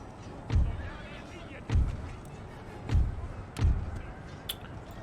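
Cavalry charging into Native American warriors in Empire: Total War, heard as four heavy, booming thuds of impact spaced about a second apart over a dense battle clamour, with a voice talking throughout.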